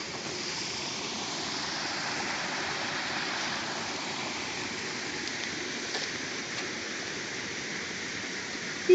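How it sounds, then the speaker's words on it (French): Small streams and springs flowing through a plain, a steady, dense hiss of running water that stays even throughout, fairly loud and continuous with no voices. "quelques petits ruisseaux, quelques petites sources qui coulent"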